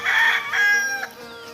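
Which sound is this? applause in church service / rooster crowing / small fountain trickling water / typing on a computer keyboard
rooster crowing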